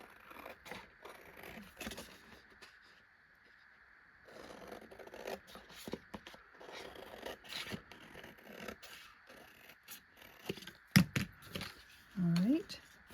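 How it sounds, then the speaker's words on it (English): Scissors snip and scrape through paper in a scattered series of short cuts, close and fairly quiet, with a few louder rustles near the end. "I am going to grab my scissors and we're just going to cut around the outside of"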